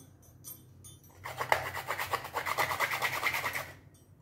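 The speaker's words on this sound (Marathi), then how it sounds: "थोडंसं जायफळ खिसून घालणार आहे" Nutmeg grated for Marathi Govind laddu mix with jaggery and poppy seeds: a steady run of quick, close rasping strokes, rhythmic and fairly loud, preceded by a few lighter scrapes, with no talking.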